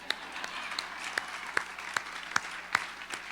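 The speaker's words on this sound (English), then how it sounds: "Oh, you're going to clap for my friends." Scattered applause from an audience at a youth theater company's Cattle Call event, with individual sharp claps standing out in a loose, uneven rhythm against a soft room hum.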